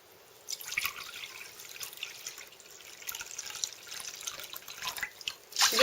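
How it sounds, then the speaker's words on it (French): Cold water is poured into a wok to cook quinoa, making a steady, fairly soft trickling splash that runs continuously for several seconds and swells slightly toward the end. "Vous versez l'eau dans le wok, 2 valeurs et demie, eau froide."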